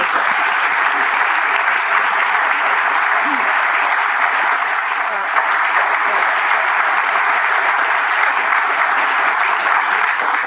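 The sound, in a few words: audience applause welcoming Madeleine Albright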